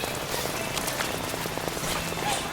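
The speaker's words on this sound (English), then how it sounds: "Now it's raining even harder as we move farther up ahead." Steady rain pattering in the Memory Meadows area of the video game Astro's Playroom, a dense, even wash of droplets with faint clip-clop-like taps mixed in, continuous and moderately loud throughout.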